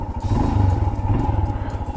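A 2024 Royal Enfield Himalayan single-cylinder motorcycle idles close by with a low, steady thumping pulse and slight mechanical clatter, no voices.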